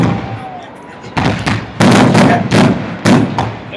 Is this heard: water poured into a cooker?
no